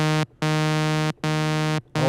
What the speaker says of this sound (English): It mixes the sound between oscillator 1 and oscillator 2.